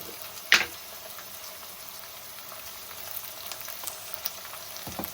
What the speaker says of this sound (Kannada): ಎಲ್ಲ ಚೆನ್ನಾಗಿ ಫ್ರೈ ಆಗಿದೆ